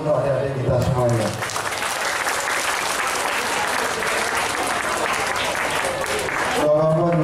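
Sustained applause from a school graduation audience honoring the students at an MTsN 5 Ngawi farewell ceremony, steady clapping filling the hall for several seconds, with brief speech at the start and end.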